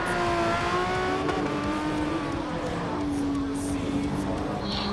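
Le Mans prototype race engine swapped into a road car in Gran Turismo 7, droning steadily at high revs with a rising and falling pitch, loud and continuous throughout.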